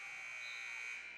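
A basketball game's end-of-quarter buzzer sounds as one steady, loud electronic tone that holds unbroken for over a second, with faint gym noise underneath.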